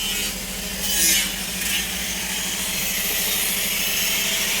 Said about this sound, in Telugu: పేపర్ కొట్టుకుంటున్నారు మిషన్ మీద.